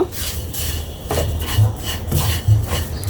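Vermicelli (semai) frying in hot ghee in a pan, heard as a soft, scraping rasp with a few louder stirring scrapes and light metallic clinks, close and steady, with no talk.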